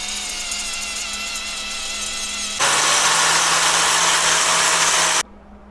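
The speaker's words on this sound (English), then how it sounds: "This weld does not look fantastic, so we're gonna grind down a little bit." An angle grinder hums at a steady idle, then bites into a weld on a dirt modified J-bar with a louder, harsher grinding roar for a few seconds before spinning free again.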